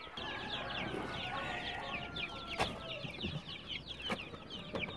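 Young DOC chicks peep and cluck in a busy flock at feeding time, a dense chorus of rapid high chirps close by with occasional sharp knocks, and no talking.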